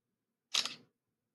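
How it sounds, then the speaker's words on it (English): A single loud camera shutter snaps once, a short sharp click-and-whir burst standing alone against near silence. "That's the loudest shutter picture"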